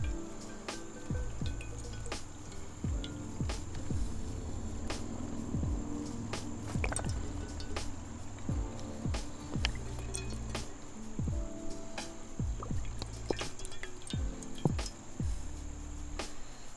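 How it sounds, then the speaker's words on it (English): Oil poured into a pan on an outdoor cooker for shallow frying makes irregular close drips and small liquid splashes scattered over a low steady background hum, with no talking. "I am going to fill my pan"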